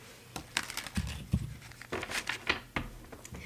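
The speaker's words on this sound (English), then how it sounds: "whenever the deck shuffles like that, if you witnessed it, if you saw it, if it shuffles very easily" A tarot card deck shuffled by hand, giving a run of crisp riffling and flapping bursts of card against card at close range, uneven in rhythm, with no voice over it.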